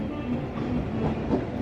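A train departs slowly on a tight, century-old curve near Manggarai station in Jakarta, Indonesia, where track works are underway, giving a steady low rumble with faint clacking of the wagons, close and continuous.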